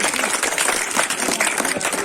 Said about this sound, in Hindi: जबरदस्त तालियां होनी चाहिए आज ये 3 विजेताओं के लिए